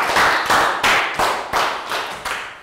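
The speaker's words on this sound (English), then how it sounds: "round of applause for two" Rhythmic clapping in a primary-school English lesson, about seven loud, evenly spaced claps close up, with no talk over them.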